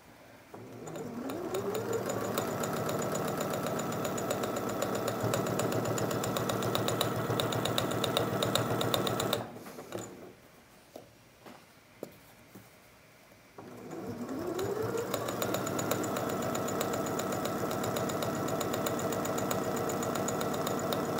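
A sewing machine stitching a quarter inch seam, running in a fast steady mechanical whir close by, pausing for a few seconds of quiet handling clicks, then starting up again and sewing steadily to the end.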